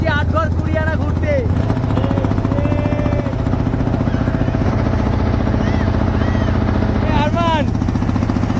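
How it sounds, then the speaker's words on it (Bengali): A trawler boat's engine runs loud and steady, a heavy rhythmic chug through the whole stretch, on a canal trip around Atghar Kuriana in Swarupkathi; people talk over it throughout. "আমরা এখন ট্রলারে করে যাচ্ছি আটঘর কুড়িয়ানা ঘুরতে।"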